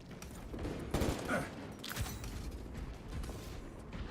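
Pistol shots in the shooter game Helldivers 2, several sharp bursts of gunfire in quick succession over busy game noise and mechanical clatter.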